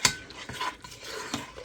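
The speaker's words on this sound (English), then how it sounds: "Now let's stir it up." A spoon stirs mac and cheese in a metal pot on an unlit stove, giving a few quiet, close scraping and clinking strokes over about two seconds.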